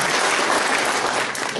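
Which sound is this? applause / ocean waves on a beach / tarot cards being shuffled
applause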